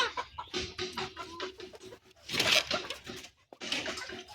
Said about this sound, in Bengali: ওরা সব ভয় পেয়ে গেছে মুরগিরা, সবার এদিকে আসছে না।